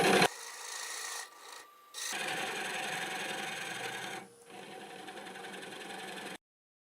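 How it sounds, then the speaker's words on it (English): A small hollowing tool scrapes into a hard sweet gum wood bowl spinning on a lathe, giving a steady close rasping cut in several bursts with short pauses between passes. "I'm going to use the little hollowing tool just to get close to the depth that I want."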